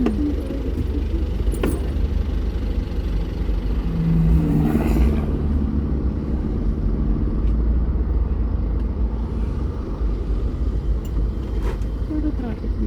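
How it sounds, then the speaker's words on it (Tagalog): Traffic in Tanauan rumbles as a low, steady drone heard from inside a car, with the engine hum constant throughout. A passing vehicle swells briefly partway through, and faint voices talk quietly inside the cabin. "Puro traffic dito."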